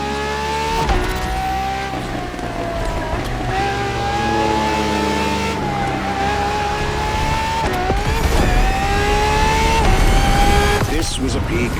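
A Ferrari FXX-K track supercar in the racing game The Crew Motorfest revs and accelerates loudly and continuously, its engine note rising and dropping through several gear shifts with occasional tire squeal, and a voice talking over it.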